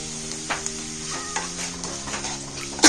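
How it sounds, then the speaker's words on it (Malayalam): Semolina (rava) roasting in a pan for rava idli, stirred with a spoon: a close, continuous dry sizzle broken by light scraping strokes, ending in a louder knock. "നന്നായിട്ട് വറുത്ത് കൊടുക്കണം."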